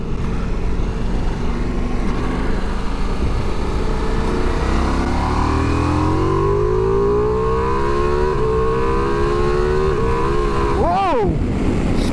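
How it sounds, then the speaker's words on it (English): A Ducati Multistrada motorcycle accelerating on a slippery motorway, its engine note climbing steadily through the gears under constant loud wind roar before briefly dropping and rising again near the end. "come and join me for a quick ride on a Multistrada while I test out the new camera"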